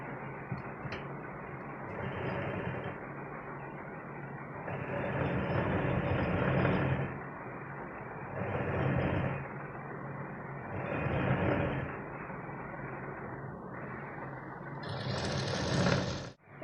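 A sewing machine stitches the cup section of a large-size katori blouse to its side panel, running in long steady bursts with brief pauses between them, close and fairly loud with no talk.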